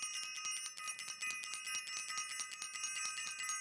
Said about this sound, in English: I also want to ring the bell.